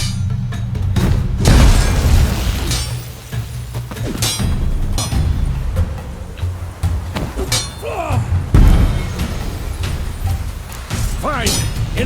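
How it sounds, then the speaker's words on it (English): A bomb detonates during training in The Witcher 3, two heavy booms with debris clatter and clinks between them, amid game ambience while voices talk. "Throw a bomb."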